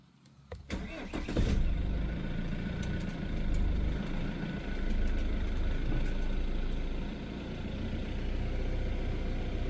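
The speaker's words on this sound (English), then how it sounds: "let's try to start the car" An Alfa Romeo Giulia 2.2 diesel cranks and fires up within about a second, then settles into a steady, close, moderately loud idle that holds with a slight periodic swell in level.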